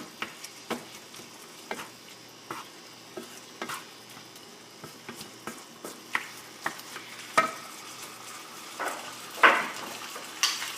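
A spoon scrapes and stirs dirty rice ingredients, including tomatoes, in a hot pan over raised heat, with irregular clinks and scrapes over a soft background sizzle.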